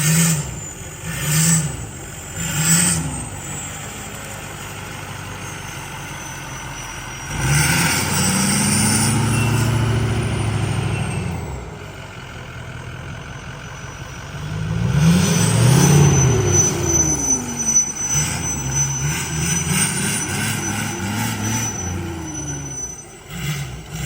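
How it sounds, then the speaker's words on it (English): Budget bogger truck engine revving in bursts, a mid-pitched growl swelling and fading twice over a long stretch, with a clunking crank from worn front arms, no talking. "Still got that cranking noise. I think it's the front arms."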